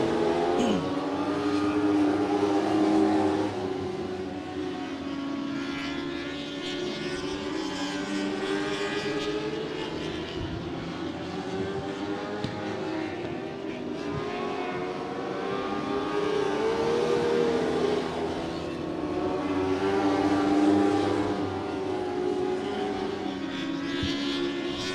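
Late model race cars circling a speedway, a continuous roar of engines rising and falling as the pack passes, swelling loudest near the start and again toward the end, heard from the stands without talk.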